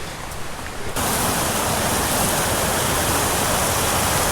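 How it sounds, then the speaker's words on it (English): A waterfall pouring into a deep pool beside a trout stream, a loud, steady broadband rush that swells up sharply after a quieter first second and then holds constant. "That's such a good looking waterfall."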